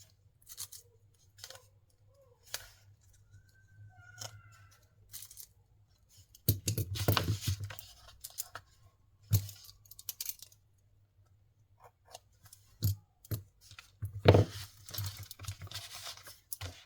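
Washi tape is peeled off a coloring book page in scattered bursts of sticky ripping and crackling paper, close and intermittent with quiet gaps. Two longer tearing stretches stand out, and no one speaks.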